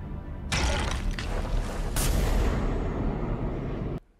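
A spaceship thruster blast from The Expanse roars in abruptly as a loud, sustained rumbling burst with a sharper surge midway, then cuts off sharply, heard alone.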